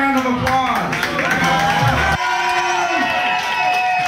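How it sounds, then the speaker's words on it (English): A crowd at a charity event claps and cheers as a woman in a bacon bikini walks onstage, the noise loud and continuous, with whoops and a voice talking over it. "Give her a round of applause."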